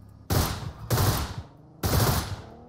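Three bursts of automatic gunfire in PUBG Mobile, each a loud, sharp volley lasting about half a second with a short tail, separated by brief gaps and heard with no talk over them.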